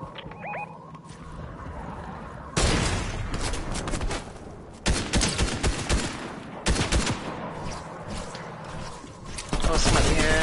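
Rapid gunfire in a Fortnite team match: several loud bursts of close automatic and single shots in clusters, with brief calmer gaps and faint voices in between.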